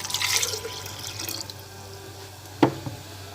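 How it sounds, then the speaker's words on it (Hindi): Water runs and splashes into a jug for about a second and a half, then a couple of sharp clinks as it settles, close by. "मैंने जग में थोड़ा सा पानी डाला"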